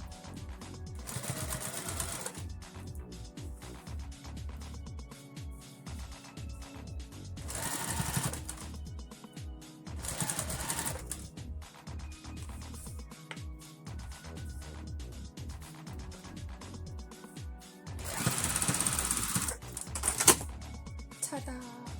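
A sewing machine runs a stay stitch along fabric ruffles in close, rapid bursts of mechanical clatter separated by pauses, with a person talking quietly in between.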